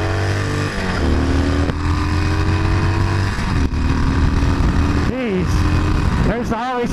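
A Harley-Davidson 48 cruiser motorcycle accelerates hard from a stop, its loud, close V-twin engine climbing through the gears in steady pulls with brief shift dips, while a rider's voice speaks over it near the end.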